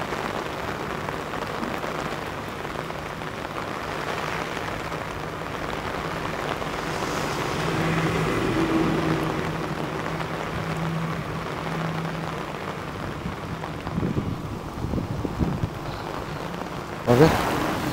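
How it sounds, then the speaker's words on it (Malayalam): Heavy rain pours during trenching work near rising water, a steady dense wash throughout with faint background activity and a brief knock near the end. "ശക്തമായിട്ടുള്ള മഴ പെയ്തുകൊണ്ടിരിക്കുകയാണ്."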